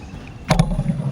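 A kayak paddle dipping into a lake with a single close splash and swish of water, followed by a faint gurgle against the hull, heard alone.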